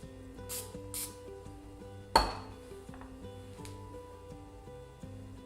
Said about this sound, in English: And then you're just gonna give them a little spritz of the oil again.